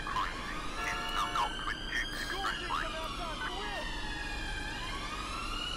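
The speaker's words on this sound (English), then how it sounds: "What is that? I hear some sirens." Police sirens wail and yelp in the LCPDFR police mod with Metropolitan Police units, several overlapping tones sweeping up and down, loud and steady over engine noise.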